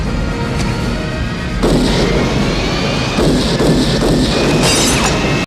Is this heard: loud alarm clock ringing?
no